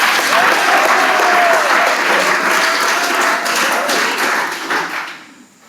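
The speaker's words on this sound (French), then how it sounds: "Acclamons très fort" A church congregation at a celebration applauding loudly and continuously, a dense wash of clapping with voices mixed in that fades out at the end.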